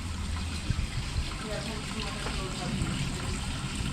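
Water runs from the Congressional Water Fountain, a steady, even rush of spray that stays level throughout, with a faint voice mixed underneath.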